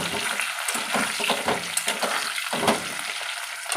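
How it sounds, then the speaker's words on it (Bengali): Cumin, radhuni seeds and bay leaf tempering in hot oil in a home kitchen give a steady crackling sizzle with small pops and a few stirring scrapes, close and continuous. "এখানে হচ্ছে জিরে আর রাঁধুনি ফোড়ন দিয়ে দিয়েছি, আর তেজপাতা।"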